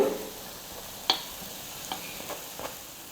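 A snack fries in a pan and is flipped partway through cooking. A faint, steady sizzle runs throughout, with a few soft clicks and taps from the turning.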